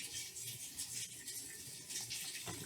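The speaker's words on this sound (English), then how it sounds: "Put in my hot water" Hot water runs steadily from a washing machine's fill valve into the drum for a load of towels, a continuous broadband gush with a slight swell near the end and no talking over it.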